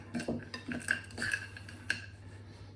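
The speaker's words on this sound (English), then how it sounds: "I can use my spoon just to fold them through" A spoon folding chocolate raisins into peanut butter cookie dough in a bowl: soft, close clinks and scrapes of metal on the bowl, irregular and quiet, with no talking.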